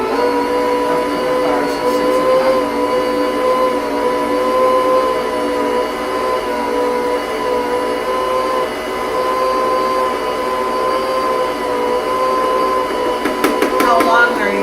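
A stand mixer whirs steadily as it beats sticky potato dinner roll dough, a loud, continuous motor drone with a few faint rhythmic knocks, with voices talking quietly underneath.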